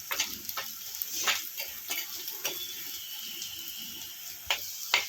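Spices, coriander powder and turmeric sautéing in oil in a clay pot for a fish curry, giving a steady soft sizzle with scattered crackles and stirring scrapes, close and alone.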